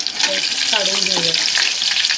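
Chicken lollipops deep frying in oil make a loud, dense, continuous sizzle close by, with a faint voice briefly heard beneath it.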